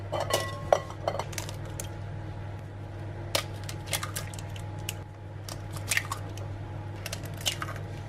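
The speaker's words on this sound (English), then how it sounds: "now we're going to whisk in the 6 eggs" Eggs, six of them, being whisked into a keto coconut-flour bread batter in a bowl, giving a run of light clinking and scraping taps, steady and close, with a low hum underneath.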